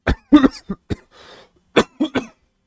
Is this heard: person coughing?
yes